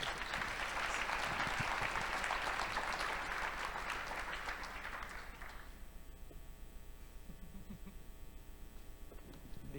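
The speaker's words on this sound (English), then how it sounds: "Let's clap again for their work." An audience at a tech conference's closing keynote and awards applauds, dense clapping filling the first half before thinning out and fading into a low room hum.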